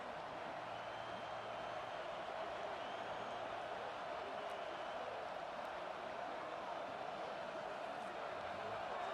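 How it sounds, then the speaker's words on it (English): A stadium crowd at a college football game roars in a dense, steady wash of noise throughout, loud and continuous with no clear breaks. "Listen to this crowd just shaking the girders of this place, trying to help their defense."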